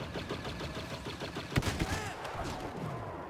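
Rapid gunfire in Star Wars Battlefront crackles in quick bursts over a busy mix of game effects, with a couple of louder, heavier shots in the middle.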